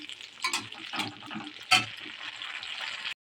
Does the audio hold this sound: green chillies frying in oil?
yes